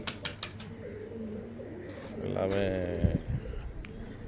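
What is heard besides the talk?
pigeons cooing in a loft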